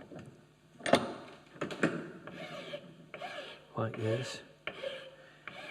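A file rasps across a wooden joiner's mallet held in a vise, in a series of close, gritty strokes with a few sharp knocks between them, while a voice speaks briefly.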